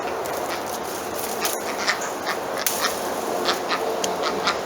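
Ducks quack noisily by a pond, with repeated short calls over a constant outdoor background and no talking.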